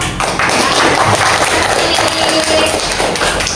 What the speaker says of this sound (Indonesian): Tepuk tangan untuk Krakatau.